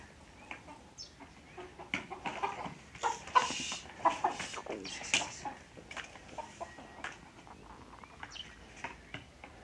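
Several chickens cluck in irregular bursts, fairly close, with louder calls clustering in the middle and softer clucks trailing off.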